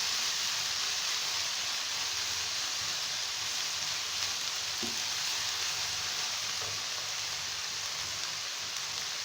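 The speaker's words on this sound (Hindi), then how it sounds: "इन्हें बस हमें हल्का सा फ्राई करना है, ओवर कुक नहीं करना।" Vegetables frying lightly in a pan for restaurant-style Chinese rice, a steady soft sizzle and hiss that stays even and fairly quiet throughout, with a couple of faint clicks of stirring.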